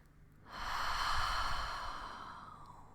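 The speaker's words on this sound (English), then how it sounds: "pay particular attention to the sound of your exhale. And again, try to maybe exaggerate the exhale a little bit more" A long, exaggerated breathing exhale, breathy and close, swelling after a quiet start and slowly fading over a couple of seconds during a guided grounding meditation.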